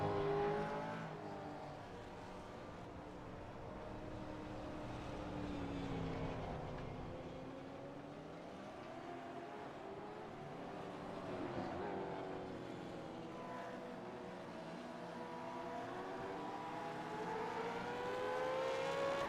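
Supercars lap Mid-Ohio in an iRacing practice session, their engines droning faintly at a distance. The pitch rises and falls continuously as the cars pass and shift.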